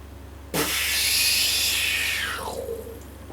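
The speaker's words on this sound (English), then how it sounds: "And 1 1/4 cup of water." A 1 1/4 cup measure of water splashes into a mixing bowl for red velvet cake batter, a sudden steady hissing pour lasting about two seconds before trailing off, close and fairly loud.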